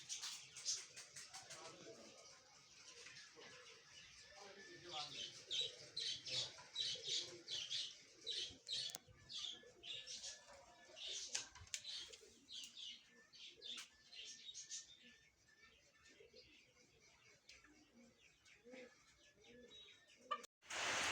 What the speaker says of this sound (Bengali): আর এই যে বিভিন্ন কবুতর আছে, ছোট জাতের কবুতর